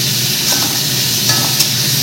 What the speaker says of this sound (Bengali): চলো এগুলো ভেজে নিই। ভেজে মশলা বলতে আদা, পেঁয়াজ, রসুন, কাঁচা লঙ্কা রেখেছি বেটে,